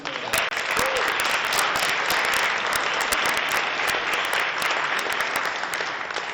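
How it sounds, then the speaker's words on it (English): Audience applause fills a high school esports grand finals venue, a dense, steady clapping from a sizable crowd held at constant loudness throughout, with no talk over it. "One more round of applause for Jim Taylor."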